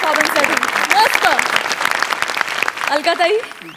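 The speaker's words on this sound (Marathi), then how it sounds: "जोरदार टाळ्या या परफॉर्मन्ससाठी" Applause for a comic stage performance, a broad crackle of clapping running beneath loud, continuous talking from people on stage.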